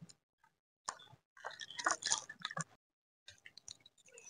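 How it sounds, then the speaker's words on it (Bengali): Grated coconut squeezed by hand with water to press out coconut milk: wet squishing and squelching in bursts, close and fairly quiet, with short pauses between squeezes. "এবার এর মধ্যে পরিমাণ মতো জল দিয়ে দুধটাকে বের করে নেব।"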